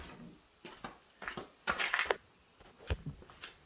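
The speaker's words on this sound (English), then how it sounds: "I apologize for the crickets" Crickets chirp in steady, faint repeated pulses outdoors, mixed with soft rustling and a few louder handling clatters and knocks nearby.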